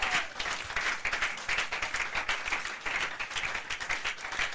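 Congregation clapping and cheering at a church service, dense continuous applause filling the room at a steady level throughout.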